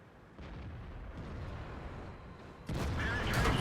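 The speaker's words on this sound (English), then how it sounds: "Now his artillery put in a cracker of a shot against the T-34" Artillery shell fired in World of Tanks, a deep rumbling blast that swells and then hits harder with a loud booming crack, dense and close.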